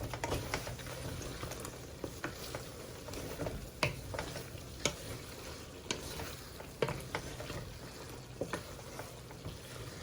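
Chicken karahi simmering in a pot while being stirred, with a steady bubbling bed broken by frequent soft clicks and scrapes of the spoon, close and moderately quiet, no talking.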